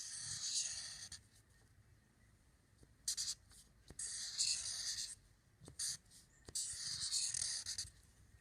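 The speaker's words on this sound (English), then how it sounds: "I will draw my number bond." A marker or pen draws a number bond for a subtraction lesson, scratchy strokes in several bursts with short pauses between, close and soft, without speech.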